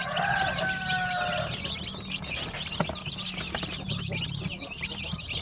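Incubator-hatched chicks about one to two weeks old, a dense chorus of high peeping and cheeping that runs steadily throughout, with some fowl clucking and low background noise underneath.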